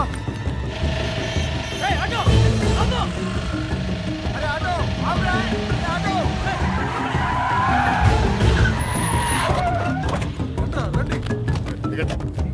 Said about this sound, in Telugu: సుబ్బలక్ష్మి ఆటోలో వెళ్ళిపోతుంది.